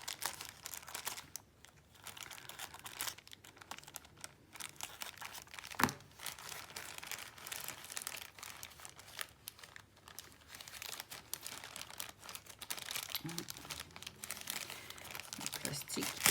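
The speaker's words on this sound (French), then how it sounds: "On va ouvrir l'autre paquet." Plastic wrapping on a package of cross-stitch supplies crinkles and tears as it is pulled open, a soft, close crackling that continues in bursts with no voices.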